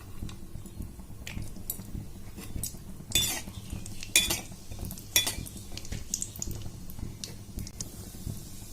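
Cashew nuts fry in hot oil while a metal spoon scrapes and clinks around the pan in scattered strokes, fairly quiet and close, over a low background hum.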